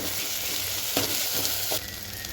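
Browned onions with ginger garlic paste fry in a pan for egg curry, a close, continuous sizzle with a couple of brief stirring scrapes.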